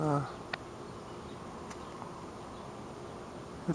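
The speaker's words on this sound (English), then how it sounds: "See all the little bees doing all their little thing." Faint, steady buzzing of bees in a garden fills the background, a soft continuous hum with brief clicks and a voice at the edges.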